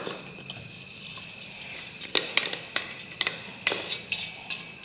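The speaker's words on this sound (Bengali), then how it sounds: "আমি এখানে একটা বড় মিক্সিং বোলের মধ্যে এই বিস্কুটের গুঁড়োটা ঢেলে নিচ্ছি।" Biscuit crumbs poured into a large mixing bowl while making a Christmas cake, soft rustling at first, then a series of sharp clinks and taps against the bowl, close by with no talking.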